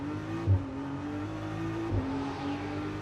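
A GT race car accelerates at the Macau Grand Prix during a Macau GT Cup free practice session, heading down through Black Sands. Its engine note climbs steadily and sounds close and sustained, with a brief bump partway through and no talk.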